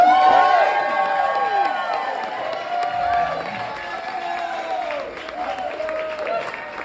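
A comedy club crowd at a class showcase claps and cheers to welcome a first-time comedian, loud applause with whoops that gradually thins, and a voice talking over it.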